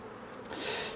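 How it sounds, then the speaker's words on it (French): Honeybees buzz around an opened hive frame holding brood, eggs and pollen-laden workers, a steady close hum that swells louder in the second half, with no talking. "Des abeilles avec du pollen aux pattes"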